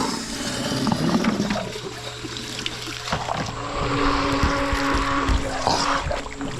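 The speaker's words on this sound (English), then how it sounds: "Plug the sump pump in." A sump pump moves water rapidly into a koi pond during summer cleaning, producing a continuous rushing, splashing flow with gurgles and a faint motor hum, close and fairly steady.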